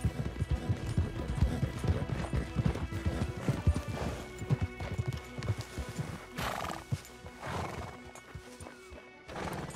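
Horses in Red Dead Redemption 2 clop along with irregular hoofbeats, snort and whinny, fairly close and prominent over a busy game soundscape, with no talking.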